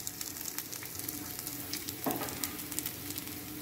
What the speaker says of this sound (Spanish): Le vamos a agregar la cebolla morada